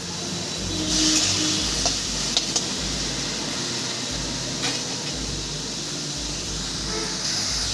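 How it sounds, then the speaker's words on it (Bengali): Ridge gourd frying in a pan while its water cooks off, heard as a steady, dense sizzle with occasional stirring knocks and a low rumbling hum underneath, with no talking. "আমি ঝিঙ্গাটাকে জল শুকানো অবধি সুন্দর করে ভেজে নেবো"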